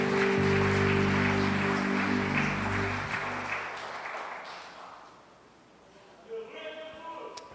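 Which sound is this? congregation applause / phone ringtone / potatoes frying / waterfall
congregation applause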